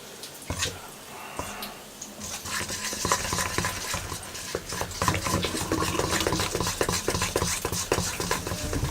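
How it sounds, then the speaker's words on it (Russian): A spoon stirs flour into a ciabatta starter dough in a bowl, giving steady scraping and knocking strokes that grow busier and louder after the first couple of seconds, close and continuous. "Берем ложку и вымешиваем."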